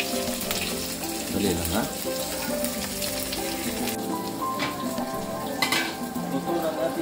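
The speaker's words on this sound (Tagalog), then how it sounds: "Luto ng ating islog." Eggs frying in a pan for a morning meal, a steady crackling sizzle throughout with occasional clinks of utensils, close and fairly loud, with a brief spoken line over it.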